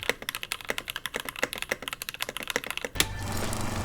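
Keys clack on a custom mechanical keyboard with a brass plate, cotton candy switch housings and springs, and alpaca stems, in a quick run of close, crisp strokes that ends with a louder hit and a fading ring.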